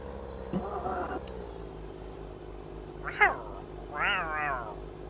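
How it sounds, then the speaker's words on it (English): Angry cat meowing in a farm-simulator multiplayer session, two drawn-out, rising-and-falling meows a second apart over a steady low engine hum, with a fainter vocal sound near the start. "Angry cat, telling you."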